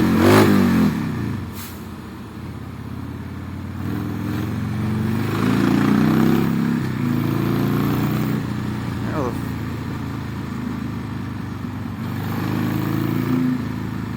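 A 2006 Harley Davidson Sportster 1200 rumbles at speed on the road, a low, steady engine drone with gentle rises under continuous talking.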